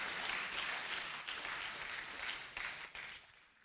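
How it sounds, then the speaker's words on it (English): An audience applauding at an art awards ceremony, a dense wash of clapping that stays full and then gradually thins and fades toward the end. "just use the God-created instrument in your hand and let's applaud them as they really deserve"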